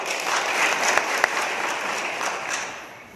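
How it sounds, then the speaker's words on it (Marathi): A crowd at a village meeting on land rights claps in approval, a dense burst of applause that holds steady for a few seconds and then tapers off. "मंजूर असेल तर एका टाळ्या वाजवून स्वागत आपण."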